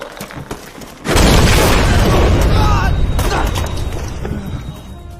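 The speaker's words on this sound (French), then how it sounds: "Grenade!" A grenade explodes in an action film: a sudden loud boom bursts in after a second of quieter sound and rolls on as a sustained, slowly fading rumble with debris-like crackle, and a voice is briefly heard.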